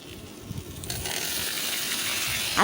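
Potatoes fry in hot oil in a pan with a whole chilli and salt, giving a steady close sizzle that grows slightly louder, with occasional stirring scrapes.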